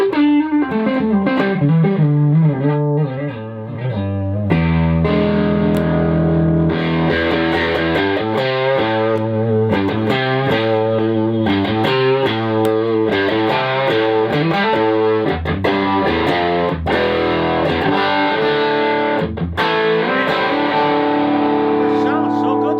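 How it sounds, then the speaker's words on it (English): Overdriven electric guitar through a 5E3 tube amp with a warm, slightly gritty tone, played as continuous chords and melodic runs, loud and close, with no talking. "It sounds so good through that amp."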